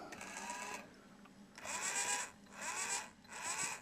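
Small electric steering motor of a radio-controlled model, driven through an LM339 window comparator circuit on 24 volts, whirs in three separate bursts as it turns the nose wheel, close and fairly quiet with short pauses between.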